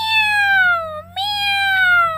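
A human voice imitates a cat meowing for a children's story: two loud, drawn-out, whiny meows close to the microphone, separated by a brief break.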